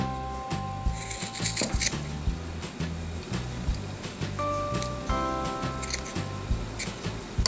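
Scissors snip the leftover yarn ends of a small yarn pompom for a bracelet, giving a series of close, quick clipping sounds in an irregular rhythm with light handling rustles between cuts.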